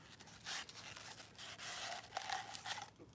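An original Autolite spark plug cardboard box is handled and opened, with close crinkling, rustling of paper and scraping cardboard in irregular bursts, quiet and without talk.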